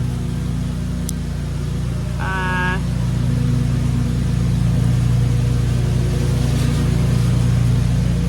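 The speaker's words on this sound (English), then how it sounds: "Sorry about the lawnmower." A lawnmower runs nearby as a steady, moderately loud engine drone that holds through the whole stretch, with a brief chirp rising above it once and no talking.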